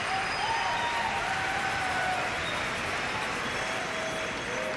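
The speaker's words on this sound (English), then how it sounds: "as the crowd responds" Applause from the crowd at Harbour Station during the 1999 World Men's Curling Championship semifinal, Stoughton of Canada against Hürlimann, a dense, steady wash of clapping from a large arena audience with faint cheers mixed in.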